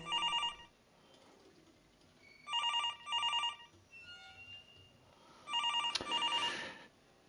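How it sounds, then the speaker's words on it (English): A telephone rings in the horror video game Infliction, three loud electronic double-ring bursts separated by quiet pauses, with a sharp click near the last ring. "Answer this damn phone call"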